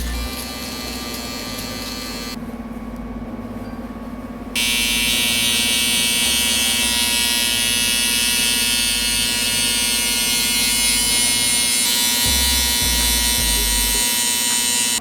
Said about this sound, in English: You kind of control the shaver a little bit better.